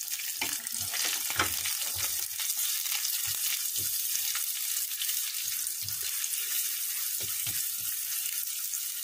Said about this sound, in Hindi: और इसी के साथ ही ये मैं हरी मिर्च डाल रही हूँ।